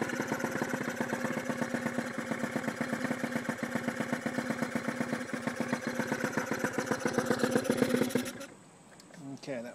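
Honda Urban Express NU50 scooter with a Mikuni VM18 carburetor idling close by, a fast, steady putter for about eight seconds before it cuts off abruptly, with a quiet voice afterward.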